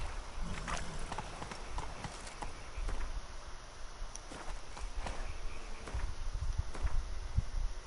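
Hooves of Roach, the horse in the video game The Witcher 3, clip-clopping at a walking pace in an irregular series of thuds, with faint rustling in the background.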